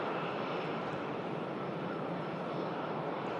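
An Emirates Airbus A380 touches down on runway 05 right at Manchester Airport, heard as a steady broad jet roar from a distance, continuous and unbroken.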